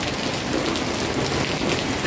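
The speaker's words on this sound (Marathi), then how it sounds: "आज सकाळ सकाळ खूपच पाऊस पडत होता" Heavy morning rain falling: a steady, dense, close hiss of drops hitting surfaces, continuous and unbroken throughout.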